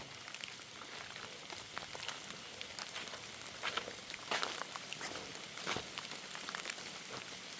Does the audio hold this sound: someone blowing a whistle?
no